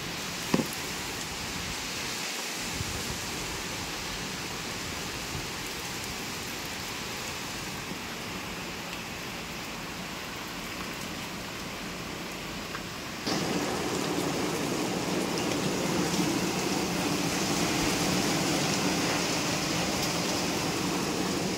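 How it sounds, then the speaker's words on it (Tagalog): Steady, dense rush of heavy typhoon rain with a broad windy roar from strong wind, growing louder and fuller partway through, with no voices. "Sobrang lakas ng ulan tsaka hangin."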